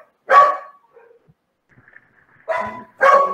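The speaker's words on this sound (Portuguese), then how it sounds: "Gente, dá um jeito nesses cachorros." Dogs bark in three short, sharp bursts at close range, the first standing alone and the last two following in quick succession after a pause, with faint household noise between them.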